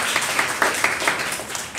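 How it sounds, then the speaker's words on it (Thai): A crowd at an indoor party event applauds, a dense patter of many hands clapping steadily for a couple of seconds before tapering slightly. "ขอเสียงปรบมือให้คุณหมอตาอีกรอบนึงครับ"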